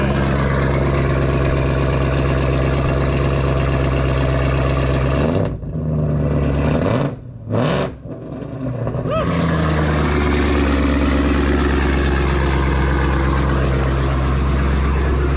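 A 2017 Camaro ZL1 sports car engine idles with a deep, loud rumble, dipping and blipping briefly mid-clip before settling back into a steady idle.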